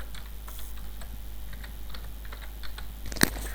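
Keys tap on a computer keyboard while a spreadsheet cell is being typed into, giving faint, irregular clicks at close range that end in one sharper, louder keystroke.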